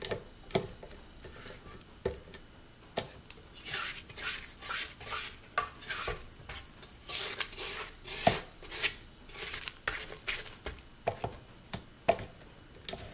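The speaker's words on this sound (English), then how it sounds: "scrape down the sides" A spatula scrapes down the sides of a bowl of sugar cookie dough, a steady run of soft rasping strokes and light taps, close up and fairly quiet, with no talking.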